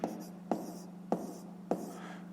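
Pen writing a math sum in a fifth-grade arithmetic exercise: four short, evenly spaced scratchy strokes on paper over a steady low hum, close and quiet, with no talk.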